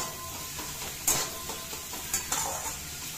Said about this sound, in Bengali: পেঁয়াজগুলো আমি ভাজছি